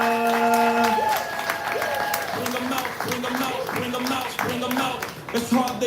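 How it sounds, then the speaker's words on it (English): Audience at a live spoken-word poetry show breaks into loud, steady applause and cheering, with a host's voice calling out over the clapping throughout. "we're clapping all the way in the front"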